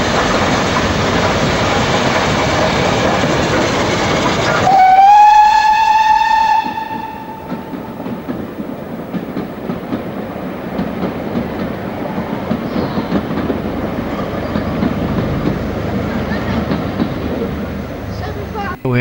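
Steam locomotive 75078 arriving at Haworth station: a loud, close whistle blast, followed by the continuous rumble and rhythmic clatter of the train rolling in for the remainder.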